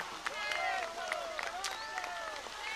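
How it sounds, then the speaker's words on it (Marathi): A crowd claps steadily at the unveiling of the Dr. Babasaheb Ambedkar memorial, a dense, even patter throughout with raised voices and tonal calls layered over the applause. "जोरदार टाळ्यांचा कडकडाट होऊ द्या"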